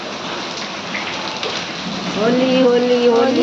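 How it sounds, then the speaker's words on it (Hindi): Heavy rain with hail pounding down during a Holi celebration, a dense steady roar that swells louder in the second half, with voices chanting over it. "जोर की बरसात, बाबा रे कितना तेज गिर रही।"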